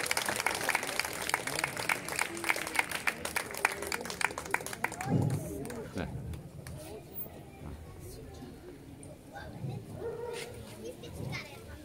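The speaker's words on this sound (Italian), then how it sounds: "Io direi di fare ancora un applauso al nostro Pietro Vannucci, detto il Perugino" An audience at an outdoor show applauds in a dense burst of clapping that fades after a few seconds, giving way to a voice talking, with scattered noises from the crowd.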